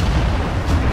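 Cannon fire in Assassin's Creed Unity on the streets of Paris, a loud, dense boom with rumbling low end filling the whole second, close and forceful.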